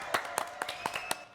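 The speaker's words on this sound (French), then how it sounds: "Ok, applaudissements." A small, quiet group gives scattered applause: about half a dozen separate claps in an uneven rhythm, sounding light and fairly close against near silence.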